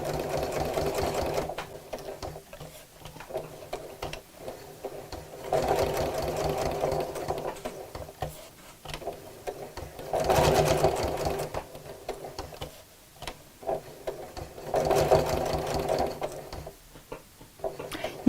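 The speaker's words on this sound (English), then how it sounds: "I'm going to sew around the edge of it to make it look like it's sewn on" Sewing machine stitching around the edge of a kraft-tex piece, running in steady mechanical bursts with brief pauses between runs, close and moderately loud with no talk.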